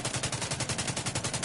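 Rapid, sustained assault rifle fire in The Division 2, loud and close, with steady evenly spaced shots rattling through the whole stretch and no voices.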